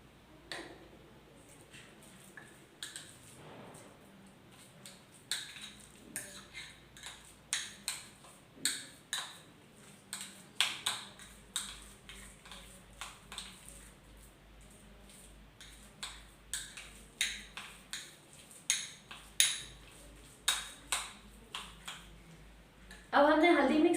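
A spoon mixing turmeric into a face pack in a bowl, with soft rhythmic ticking taps against the bowl repeating throughout, quiet and close, underneath someone talking.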